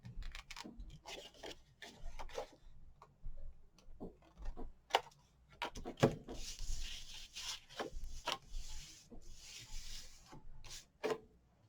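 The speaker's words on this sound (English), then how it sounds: "Burnish both score lines on both of the pages" Scored paper pages of a craft folio being burnished along the score lines, quiet close-up rubbing and scraping strokes in short repeated bursts.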